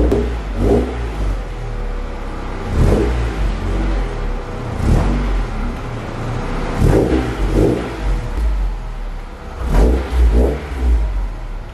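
A car engine revs in repeated bursts while the car is pulled into a garage. The revving is loud and close and surges several times over a steady low rumble.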